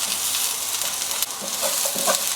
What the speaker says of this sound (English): So this stir fry is now cooked.